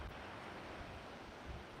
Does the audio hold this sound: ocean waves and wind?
yes